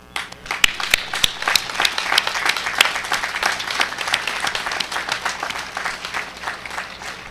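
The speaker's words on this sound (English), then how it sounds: "graduates, please join me in a round of applause for everyone who helped you become a" A commencement audience breaks into a round of applause for those who helped the graduates, dense clapping with a few sharp claps standing out, steady and then slowly thinning over several seconds.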